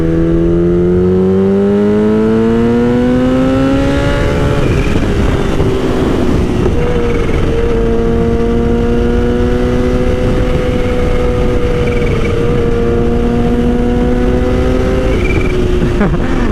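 A supercharged Kawasaki Ninja H2 motorcycle accelerates up through the gears, its loud engine tone rising, dropping at each shift and climbing again, with a high supercharger whistle riding over the roar.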